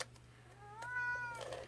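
A house cat meows once, a drawn-out, slightly rising call that sits close and clear over a low steady hum in a quiet room.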